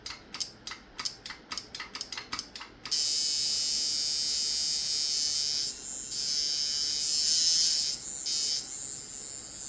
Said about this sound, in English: it actually runs better with these aluminum coils for some reason than it did with the copper